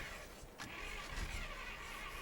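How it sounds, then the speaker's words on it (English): A truck engine in The Forgotten Lands 1950 cranks and struggles to start, a faint continuous mechanical churning with a brief surge partway through and no catch. "Come on, truck, start."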